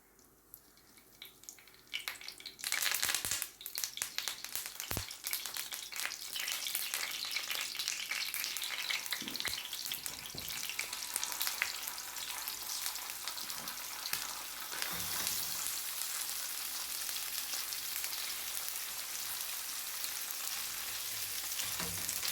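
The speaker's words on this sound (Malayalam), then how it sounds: "നമുക്ക് മീനൊന്ന് വറുത്തെടുക്കാം." Fish fries in a pan of oil, the sizzle jumping up loudly as it hits the fat, then settling into a continuous crackling hiss that stays strong and close throughout, with no talking.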